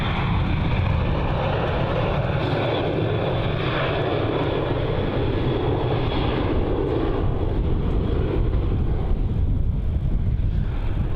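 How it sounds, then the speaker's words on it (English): A Qantas Boeing 737-800 takes off from Melbourne Airport bound for Brisbane, a steady, broad jet-engine roar with wind buffeting that holds strong throughout, heard from a distance with no talk. "On departure there, we have the Qantas 737-800 going off to Brisbane as QF 614."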